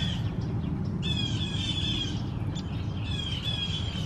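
Several birds squawk and chirp outdoors on a warm, sunny day, their calls coming in bursts over a steady background hiss.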